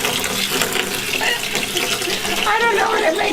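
Cold water runs from a tap for watering a garden, a continuous splashing flow with a voice briefly heard over it.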